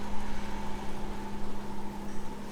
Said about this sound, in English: You just hear the engine rumbling